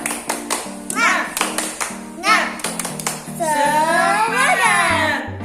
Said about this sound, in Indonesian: Ayo bersama-sama kita tepuk semangat.